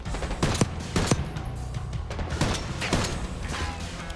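Dense game gunfire from Call of Duty Black Ops 6, with sharp repeated shots and bursts breaking out every half second or so over a steady rumbling battle bed, loud and close throughout.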